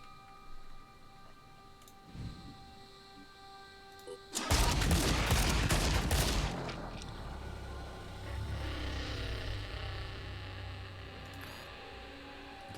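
Gunfire in the turn-based video game Phoenix Point: a sudden loud burst of rapid shots lasting about two seconds, with quieter game sounds and mechanical ticking before and after.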